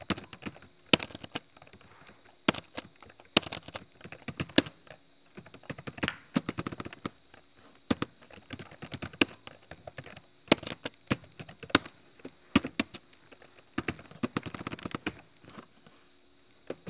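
Someone types on a computer keyboard into a Word document, sharp clustered key clicks arriving in irregular bursts with quiet pauses between them.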